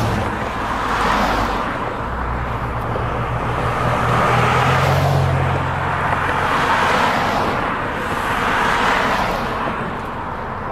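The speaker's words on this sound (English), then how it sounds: "quite a lot of traffic coming up here today." Steady road traffic on a snowy mountain highway, cars swelling and fading as they pass close by in a continuous rolling roar, with no talking.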